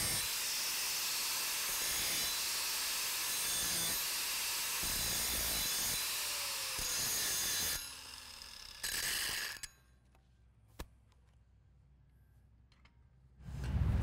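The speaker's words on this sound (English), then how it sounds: "I am going to grind them down kind of feather them so I can tie into them." A grinder dresses and feathers weld tacks on steel plate being prepared for 1G stick welding, with a loud, steady, close grinding roar for about eight seconds, then shorter bursts and quieter gaps, and a final burst at the end.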